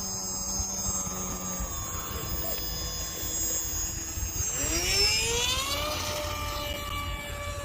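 A Hobbyzone Aeroscout S 1.1 m RC model airplane flies outdoors with a steady electric motor whine, its pitch climbing sharply about two-thirds through as the throttle is pushed up. The motor sounds fairly close throughout.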